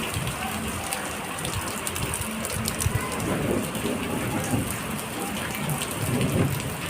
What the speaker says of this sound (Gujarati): હા, અને જો જોરદાર વરસાદ હંધો ચાલુ જ છે.